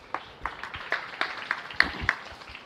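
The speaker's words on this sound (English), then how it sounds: "Let's give those guys a big round of applause." Sparse, distinct handclaps from a small audience at a county fair beef show, roughly a dozen claps at an uneven rhythm, close and dry.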